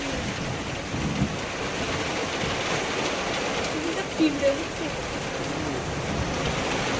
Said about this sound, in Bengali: এত পরিমাণে বিদ্যুৎ চমকাচ্ছে কি বলবো, বিশাল। আর সেই পরিমাণে বৃষ্টি হচ্ছে।